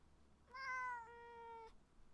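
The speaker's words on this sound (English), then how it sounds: "that was a good meow" A single drawn-out cat meow, clear and close, rising then holding steady for over a second before stopping abruptly, with quiet room hum around it.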